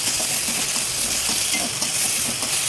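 Carrot and potato pieces are stirred in a hot frying pan, giving a loud, continuous sizzle with a rhythmic scraping of the spatula throughout, and no voices.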